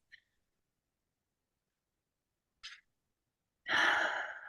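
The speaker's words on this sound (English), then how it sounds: "take a couple of really big, deep, refreshing breaths" A person takes a deep breath during a guided relaxation: a faint short intake, another brief breath, then a loud, long, close exhale.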